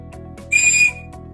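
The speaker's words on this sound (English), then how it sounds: "if you hear a whistle" A tour guide's whistle gives one loud, steady blast of about 0.4 seconds over a low background hum, with no talk.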